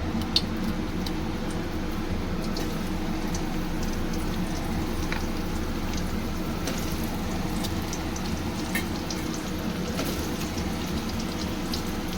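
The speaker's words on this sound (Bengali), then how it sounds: "তেলটা গরম হয়েছে, আমি আলুগুলো ছেড়ে দিলাম।" Potatoes fry in hot oil for a Bengali dhokar dalna, a steady dense sizzle and crackle running evenly throughout at close range with no talking.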